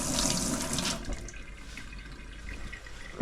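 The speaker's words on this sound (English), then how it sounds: "That's the water running out the hot tap now." Water runs from a hot tap fed by a newly filled cylinder in a small cupboard installation, a steady close rushing splash that starts strong and settles into a quieter continuous flow.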